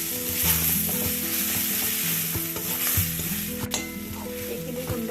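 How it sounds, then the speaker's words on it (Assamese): Onion and spice paste with turmeric and cumin powder fries in a pan, a close steady sizzle broken by scraping stirs and a sharp clink of the spoon on the metal. "জিৰা পাউডাৰ দি এইখিনি আৰু অলপ দেৰি 1 মিনিট মানৰ কাৰণে ভাজি ল'ম।"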